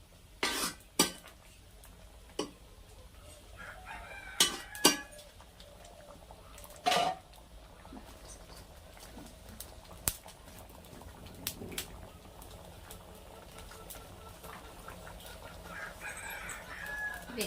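Chickens cluck and a rooster calls now and then amid a busy backdrop, with occasional sharp clinks of dishes or utensils nearby.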